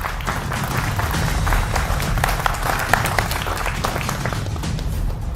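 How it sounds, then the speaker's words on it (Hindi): Studio audience applause for guests on a televised debate show, a dense, steady wash of many hands clapping at moderate loudness throughout, without talk. "तो जोरदार तालियां हमारे तमाम मेहमानों के लिए।"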